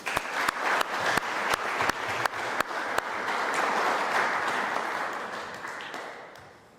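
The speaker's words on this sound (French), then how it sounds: "nous pouvons les applaudir" An audience at a public debate applauds. Loud, sharp claps ring out early, then blend into a dense, sustained wash of clapping that slowly fades.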